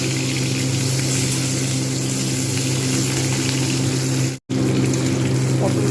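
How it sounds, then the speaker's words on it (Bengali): Pointed gourd pieces fry in mustard oil with a loud, constant sizzle and crackle from close by. The sound drops out once for a split second, and a voice may speak faintly underneath. "প্রথমে আমি পটলগুলো লালচে করে ভেজে নেব।"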